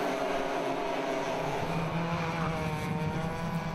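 Club100 heavyweight sprint karts race toward the finish at Lydd, several engines blending into a loud, steady, high-revving buzz that stays close and constant, with no voices.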